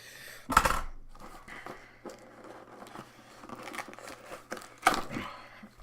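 Scissors cutting duct tape off an Xbox One package, with a few sharp tearing snips and crinkles spread between quieter handling noises, close and fairly soft.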